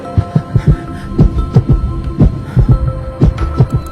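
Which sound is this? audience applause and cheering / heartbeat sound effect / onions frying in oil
heartbeat sound effect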